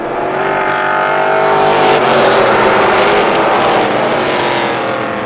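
Race cars roar together at a green-flag start on a short oval track, a loud, dense engine drone that swells steadily as the pack accelerates off turn one, with no talk over it.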